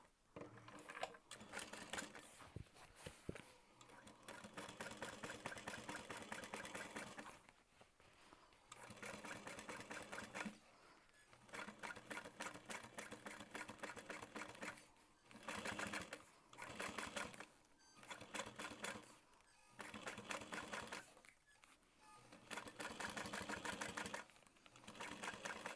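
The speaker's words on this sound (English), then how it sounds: "you're just going to top stitch along the bottom curve" A sewing machine top stitches fabric along a curved edge in repeated bursts of fast, even clatter, separated by short pauses as the fabric is turned, close and fairly quiet.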